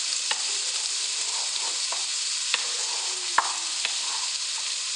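Garlic and onion sizzle steadily in a hot pot for an Italian meat sauce, a bright continuous frying hiss up close with a few light stirring clicks.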